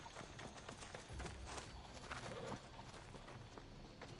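Horse hooves clip-clop steadily on the ground in the Assassin's Creed video game, a continuous mid-distance trotting rhythm amid game ambience and faint birdsong.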